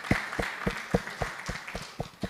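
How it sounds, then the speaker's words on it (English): Conference audience applauding a speaker at a religious tourism and pilgrimage event: scattered, fairly faint clapping with distinct individual claps rather than a dense roar, heard from a distance in a hall, lasting a couple of seconds. "please give another round of applause for Professor Carlos Fernandez."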